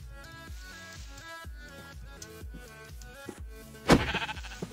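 Sheep in the Minecraft video game bleat repeatedly in short, evenly spaced calls, loud and clear over quiet background music, with a louder burst of sound near the end.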